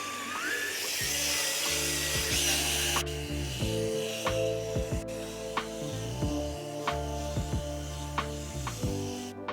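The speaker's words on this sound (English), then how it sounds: "Apply it to your polishing pad and start polishing." A cloudy headlight on a Ford Transit Connect van being polished with compound on a powered polishing pad, giving a steady, loud whirring grind with scraping and rubbing textures that shift pitch as pressure changes, with no talking.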